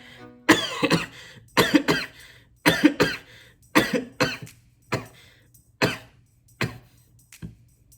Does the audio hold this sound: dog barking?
no